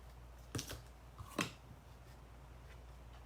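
Scissors snip through ribbon in two or three quick, close, crisp cuts over a quiet room background.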